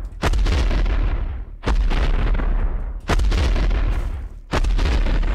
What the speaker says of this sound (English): Sounds like a bomb going off